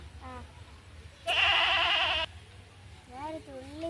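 A single loud, wavering bleat from a milk goat lasting about a second, with faint chirping sounds before and after it.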